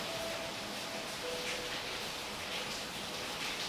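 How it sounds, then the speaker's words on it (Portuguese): Rain falls outside a window as an even, hissing wash of steady noise with no break and no voices. "por causa do barulho, tá? Da chuva."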